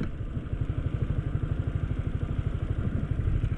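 Motorcycle engine on a road through Sierra Madre forest land, a rapid regular thumping putter held steady and fairly close, with a faint clatter mixed in.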